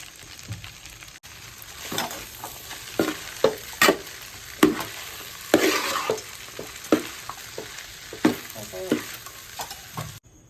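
Fried rice and chilli chicken tossed in a hot pan: a constant low sizzle broken by repeated sharp spatula scrapes and clatters at irregular intervals, close and without talk.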